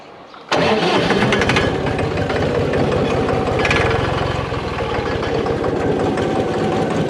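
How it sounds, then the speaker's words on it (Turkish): A cold Massey Ferguson MF 266 tractor engine cranks and catches after a brief quiet moment, then settles into a loud, steady rumbling idle with a faint knocking rhythm. "Traktör de soğuktur şimdi. Marşa basıp ayağımızı indirelim. Isınsın bir traktör."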